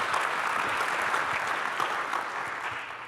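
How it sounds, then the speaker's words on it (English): An audience at a competition finals event gives sustained applause for the participating teams, a dense, even wash of many hands clapping that holds steady at moderate volume with no speech. "let's give a round of applause to all the teams that participate in the competition this year."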